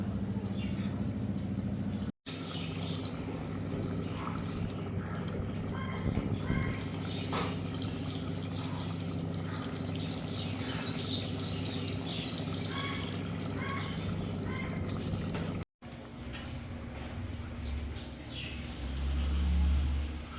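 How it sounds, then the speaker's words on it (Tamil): Water drains steadily from a pot of partly boiled rice during Tamil-style chicken dum biryani cooking, a continuous close pouring wash broken by two brief silent cuts. "சாதம் வடித்து எடுத்தாச்சு."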